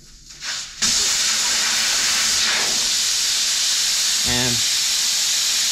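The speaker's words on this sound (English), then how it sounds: "You're gonna hear a lot of air in a second." Air rushes loudly and steadily out of a tire after its valve core is pulled, a sharp sustained hiss that starts abruptly and continues, with a brief voice partway through.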